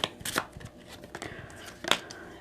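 Tarot cards being drawn and handled from a deck, with a few soft papery flicks and slides, one sharper snap near the end, quiet and close with no talking.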